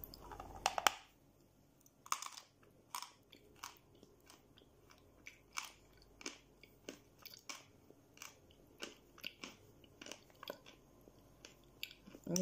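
Quiet, close-miked chewing and crunching during a mukbang, with a sharp bite near the start followed by a steady series of soft, irregular crunches and mouth sounds against near silence.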